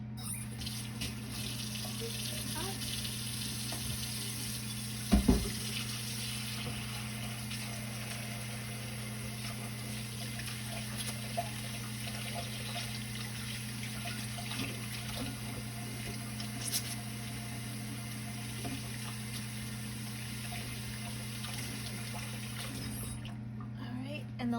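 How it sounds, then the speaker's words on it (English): Hands are washed under running water at a kitchen sink, a soft, steady stream with a brief louder splash early on, beneath a constant low hum. "And just gonna wash my hands."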